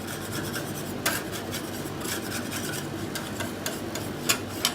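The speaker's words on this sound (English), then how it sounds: "What we're going to do is just scrape it off." A spatula scrapes frozen slush mixture off a pan for a Blizzard-style topping, giving a steady raspy rubbing texture with a few sharper scraping strokes, close and alone.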